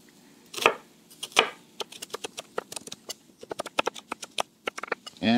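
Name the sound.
knife chopping an onion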